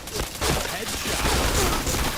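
Dense, loud gunfire from a shooting video game, bursts of shots crowding together with a continuous rattling roar, while a voice speaks over it.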